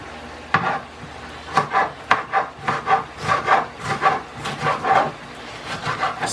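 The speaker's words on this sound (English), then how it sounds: "I'm gonna cut it up and add it in there" A knife chops hot pepper on a wooden chopping board, landing as a steady run of crisp, close knocks and scrapes about twice a second with no talk over them.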